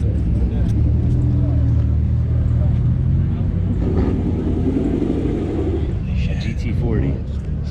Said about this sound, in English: That's a big ass engine.